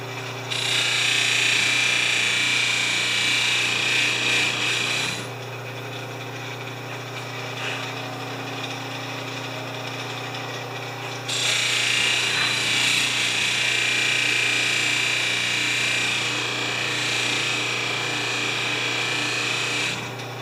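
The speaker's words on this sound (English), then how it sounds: "I'm just gonna quickly move over to the big buffer and see if we're making any difference." Big power buffer polishing a surface: a steady broadband whirring rub in two long sustained passes, with a quieter running hum between them and no talking.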